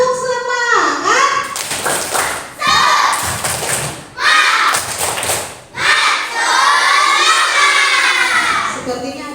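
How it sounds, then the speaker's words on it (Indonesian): Schoolchildren in a classroom perform a rhythmic clapping cheer, bursts of loud claps alternating with a teacher's voice and children's chanting, close and energetic. "kalau semangat Ibu minta tepuk semangat."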